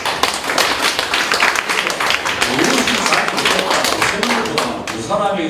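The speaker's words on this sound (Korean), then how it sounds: "이때는 박수를 쳐요." An audience applauds at a political talk, with a dense, steady burst of clapping close by and a voice speaking briefly near the end.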